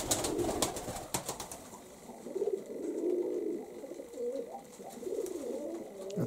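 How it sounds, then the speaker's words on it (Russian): Pigeons coo in repeated rolling bursts as a male drives a female toward the nest, close and fairly clear, with sharp flapping or scuffing clicks early on. "Это он гонит голубку, гонит на гнездо."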